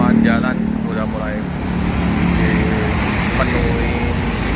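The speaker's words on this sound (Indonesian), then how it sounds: "dipenuhi kendaraan-kendaraan pribadi maupun mobil-mobil yang mau menuju ke Lampung, Jakarta." Steady roadway rumble of private cars and other vehicles heading toward Lampung and Jakarta, passing near a bus parking area in the morning, continuous and fairly loud with a voice talking over it.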